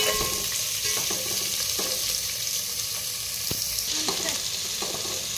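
Finely chopped onion sautéing in a pan for chicken biryani, a steady moderate sizzle with repeated stirring clicks and scrapes, close and alone without talk.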